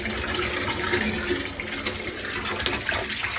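Water pours steadily from a hose into a 120-gallon aquarium tank being set up, a loud continuous rushing and splashing fill heard up close.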